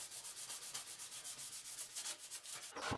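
Sandpaper scrubbing pine pitch off a steel handsaw blade, a steady rhythmic rasp of repeated back-and-forth strokes, close and fairly quiet, with no voices.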